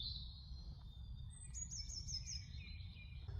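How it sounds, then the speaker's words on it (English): Several birds chirp and tweet in high, thin phrases against a quiet outdoor background with a low rumble, calls overlapping at a moderate distance. "how gorgeous is the sound of all those birds and things tweeting in the trees"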